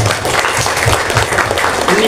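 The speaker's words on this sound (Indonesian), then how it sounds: "tepuk tangan untuk bapak-bapak" An audience claps for the fathers at a school parenting seminar, a dense, steady patter of applause lasting about two seconds, with a voice talking over it.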